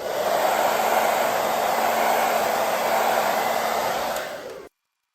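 A heat gun blows hot air over vinyl film while it is stretched across Saab 9-3 interior trim. The steady, close whooshing roar runs alone for about four and a half seconds, then cuts off abruptly.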